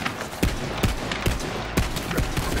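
Rapid bursts of gunfire in Borderlands 3 crack out in a quick, regular rhythm of about six sharp shots, loud and close, with no talking over them.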